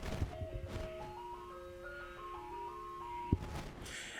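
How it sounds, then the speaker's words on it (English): An ice cream truck plays its melodic jingle, a steady string of tones at moderate distance with a sharp knock partway through, no speech. "Do you guys hear the ice cream truck?"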